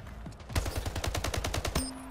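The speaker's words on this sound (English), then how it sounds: "I like the full auto gun." A full-auto gun fires in the video game Splitgate, a rapid even burst of about a dozen loud close shots lasting over a second, then it stops.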